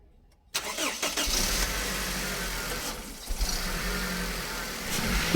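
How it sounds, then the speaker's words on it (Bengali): A 2013 Toyota Hiace GL van with a 2000cc VVT-i engine converted to CNG cranks and fires after a short silence, then settles into a smooth, even idle close by. "দেখেন আমরা গাড়িটা স্টার্ট করব"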